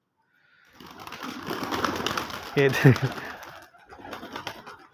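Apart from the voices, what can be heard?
home pigeons cooing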